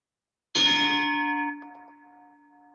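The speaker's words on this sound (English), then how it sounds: "So I'm going to ring the bell." A bell rung during a memorial tribute at a virtual gala gives a single clear strike after a moment of silence, then rings on with a long, slowly fading tone heard alone.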